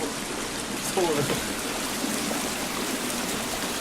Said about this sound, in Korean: 이거 물소리가 그 너무 리얼해서 그쵸?